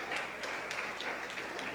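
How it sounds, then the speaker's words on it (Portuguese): A church congregation applauding during a family service, a steady wash of many hands clapping at a middle distance, fairly soft and continuous. "Aplauda,"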